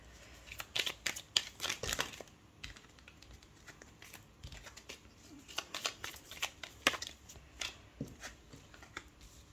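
Tarot cards being shuffled and dealt for a weekly Scorpio reading, a steady run of crisp, close papery flicks, snaps and rustles in uneven bursts, with no voice over them.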